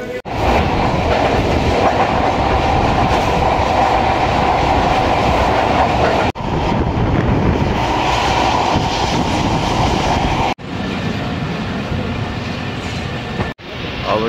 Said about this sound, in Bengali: অবশেষে কমলাপুর রেল স্টেশনে এসে পৌঁছাইলাম, ঢুকে গেছে আমাদের ট্রেন প্রায়।